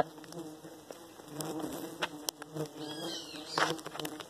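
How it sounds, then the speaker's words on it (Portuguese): A swarm of mandaguari stingless bees buzzes continuously and close by, a dense insect hum with individual bees flying past the microphone. "Enxamezinho de mandaguari."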